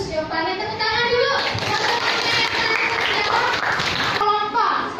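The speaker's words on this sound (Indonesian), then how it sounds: "Tepuk tangan dulu." A class claps hands together for a few seconds in a teacher-training role-play lesson, a busy patter of many hands over a teacher's voice, with children's voices mixed in before and after.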